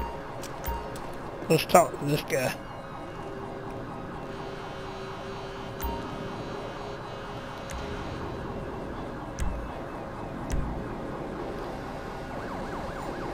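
Ambulance siren wailing in a repeating rising-and-falling cycle in Grand Theft Auto V at a port accident scene, steady under game sounds, with someone speaking briefly over it and a few sharp clicks.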